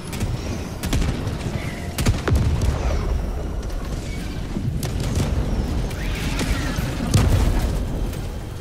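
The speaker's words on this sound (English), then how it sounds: "We hear explosions, they're coming in." Dense, continuous rumble of battlefield explosions and booms in the Helldivers 2 video game, with several sharper blasts standing out from the constant roar and no voices.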